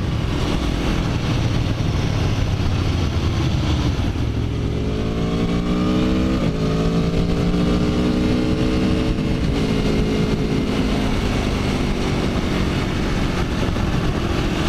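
A motorcycle ridden with its rider aids switched on, the engine droning loudly and steadily throughout with a rising, shifting pitch in the middle as it accelerates, plus constant wind rush and no talk.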